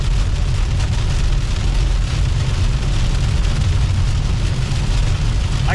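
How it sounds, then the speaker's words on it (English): Heavy rain beats on a moving car at an outdoor event, a loud dense wash of drumming over low road and engine rumble, continuous and unbroken with no talk. "now it's raining sideways. And as you can hear, it's getting heavier and heavier"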